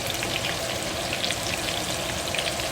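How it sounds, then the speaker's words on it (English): Coconut- and breadcrumb-coated shrimp frying in oil over medium heat, a steady dense sizzle with fine crackling bubbles that holds at an even level throughout, with no voices. "Let it take its sweet time to fry beautifully."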